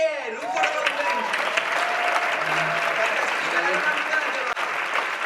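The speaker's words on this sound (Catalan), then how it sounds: "Un fort aplaudiment, sisplau!" Loud, steady applause from a gala audience, a sustained wash of clapping that fills the whole stretch after a voice introduces two guests, including a playwright.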